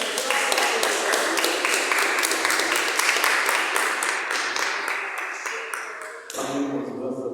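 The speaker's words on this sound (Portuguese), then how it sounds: "Eu agradeço essa rica oportunidade e as palmas louvam ao Senhor." Church congregation applauding in praise, a long, dense and steady round of clapping with bright, reverberant hand claps that thins out toward the end, with faint voices underneath.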